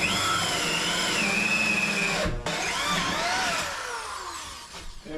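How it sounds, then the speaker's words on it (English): A battery-powered drill runs close by during a van build of a butcher block table, giving a continuous whirring whine that shifts in pitch, briefly dips, then winds down. "So let's use the drill."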